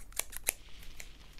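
Scissors are handled up close in a candy store ASMR roleplay, giving a few quiet, crisp metallic clicks and snips spaced unevenly over a soft, hushed background.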